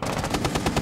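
Rapid automatic gunfire from a Rainbow Six Siege match on the Plane map, a steady burst of about a dozen evenly spaced shots, loud and close with no voices over it.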